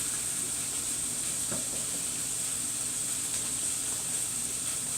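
Sausage frying in butter in a pan for sausage gravy gives a steady, even sizzle and hiss, fairly quiet and continuous, with a faint stir or scrape near the middle and no voices.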